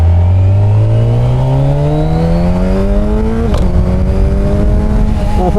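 A Kawasaki Ninja 1000SX motorcycle exhaust revs hard inside a tunnel, its loud reverberating note climbing steadily in pitch through the gears, with a brief shift blip before pulling higher again.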